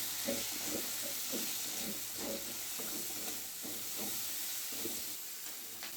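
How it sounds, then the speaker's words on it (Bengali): Spice paste of cumin, turmeric and Kashmiri chilli powder frying in a pan for Bengali fish curry, with a constant hiss under repeated rhythmic scraping strokes of a spatula. "ভালো করে মশলাটা কষিয়ে নেব।"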